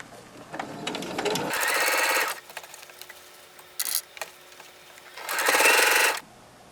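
A sewing machine fitted with a quarter-inch foot stitches a fabric face mask, with three loud bursts of steady motor whirring separated by quieter pauses and faint handling noises.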